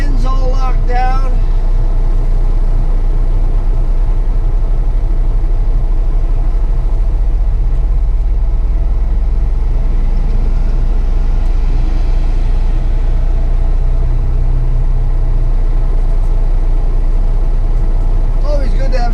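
Truck engines idle in a line at a shipping terminal, a loud constant low rumble that fills the whole stretch, with a voice talking over it.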